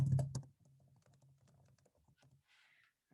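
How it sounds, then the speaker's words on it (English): Someone types a sentence on a computer keyboard, with a quick run of soft, close key clicks at an uneven pace after a brief louder knock at the start. "I'm going to start typing."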